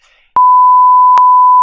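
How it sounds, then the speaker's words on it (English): Censor bleeps over swearing during a Sekiro gameplay session: a steady, loud electronic tone held continuously for over a second, with brief faint talk just before it starts. "so that I have to beep it a lot of times."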